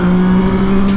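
A blue and black 2018 Yamaha MT-09 motorcycle engine on the autobahn gives a loud, close, steady drone with a strong humming tone that holds for the whole second.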